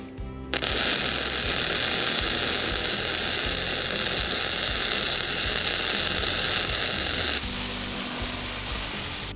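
MIG-style welding along a corner of a homemade steel winch plate for a 3rd gen Toyota 4Runner, with a worn contact tip: a steady loud crackling sizzle runs nearly the whole clip, changing tone near the end.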